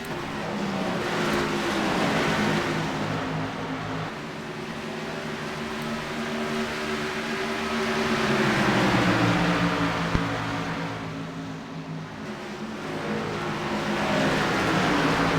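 A big pack of race cars runs together at Dover in an Xfinity Series race, engines droning steadily, with pitch that swells and sweeps as the field passes, heard at a distance with no talking.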